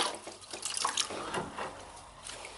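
A wet sponge worked over a drywall patch releases scattered drips and soft wet squishing, faint and close, with irregular splashy patters and no voices.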